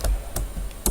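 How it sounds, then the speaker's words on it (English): Keys clacking on a computer keyboard while typing code in a text editor, a few quick separate strokes close up. "I could just type P and then press"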